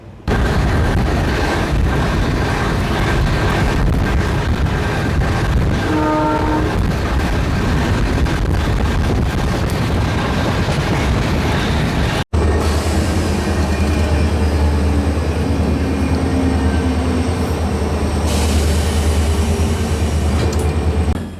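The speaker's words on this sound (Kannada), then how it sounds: "ಆಲ್ಮೋಸ್ಟ್ ಒಂದು 30 ಮಿನಿಟ್ಸ್ ಡಿಲೇ ಜೊತೆಗೆ ನಮ್ಮ ಟ್ರೈನ್ ಎಂಟರ್ ಆಗೈತ್ರಿ ಈಗ ಯಡಿಯೂರು ರೈಲ್ವೆ ಸ್ಟೇಷನಿಗೆ" A train rolls into Yadiyur railway station with a loud, steady rumble and rattle throughout, a brief cut midway, then a lower steady hum with tonal whine as it slows.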